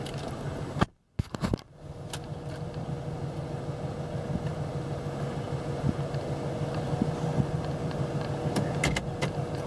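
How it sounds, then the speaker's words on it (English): A 2014 Dodge Charger that was started with a jump creeps forward, giving a steady low engine and rolling rumble that holds evenly for about nine seconds after a brief dropout near the start. "Vehicle moves in forward"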